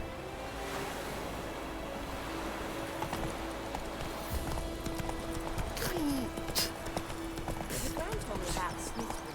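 Roach the horse clip-clops at a steady trot in The Witcher 3: Wild Hunt, hooves close and rhythmic over ambient outdoor noise, with someone speaking at times.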